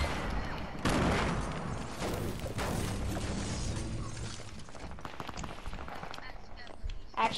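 Rapid gunfire and impacts from a multiplayer shooter video game, a dense burst of shots in the opening seconds thinning into scattered fire, with players talking over it throughout.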